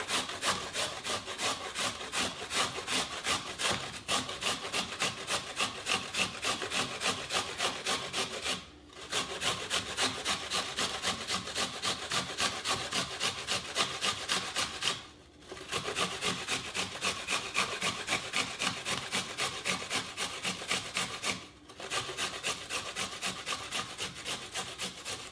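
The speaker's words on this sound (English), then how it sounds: "We're also using the large side of the box grater." Potatoes grated on the large side of a box grater, a steady rhythmic rasping of rapid strokes that runs loud and close, broken by three brief pauses.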